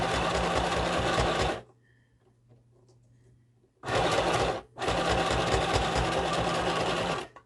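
A sewing machine runs in a fast, steady mechanical rhythm, pauses for about two seconds, then resumes stitching in two more bursts.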